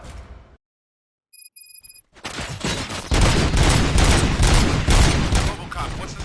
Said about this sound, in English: Gunshots? What's going on?